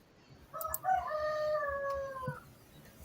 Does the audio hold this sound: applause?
no